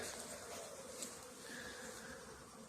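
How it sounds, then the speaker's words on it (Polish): A dense, steady buzz of many honeybees flying around a hive in November, close by, a continuous humming swarm with no voices. "wszystkie pszczółki latają"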